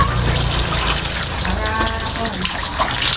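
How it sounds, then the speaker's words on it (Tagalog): Water gushes steadily from a pipe into a pig pen, a close, continuous splashing rush, while a person speaks over it. "dire-diretso yung tubig nila oh"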